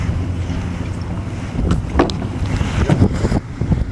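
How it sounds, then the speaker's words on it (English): A small outboard on a dinghy at a dinghy dock idles and then gets a little forward throttle, a low engine rumble under wind noise and lapping water, rising slightly midway. "engage in a forward position, throttle, and give it just a little bit of forward gas."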